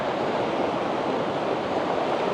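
Flood water rushes through a desert canyon as a loud, continuous broadband roar, steady and close throughout with no pauses and no voices.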